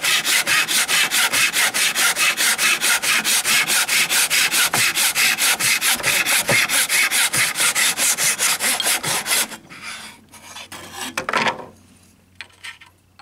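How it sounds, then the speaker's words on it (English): A hand saw cuts through box timber held on a bench hook, with loud, even back-and-forth rasping strokes close up for most of the clip, then a few quieter scrapes and knocks as the cut finishes. "put your saw blade in there and see if you can cut that off."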